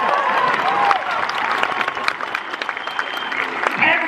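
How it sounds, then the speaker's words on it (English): Theatre audience applauds a performer's wife at an outdoor musical show in Medora, North Dakota: dense, steady clapping from a large crowd, loud and close, running for several seconds with a brief swell near the end. "Please give her a round of applause"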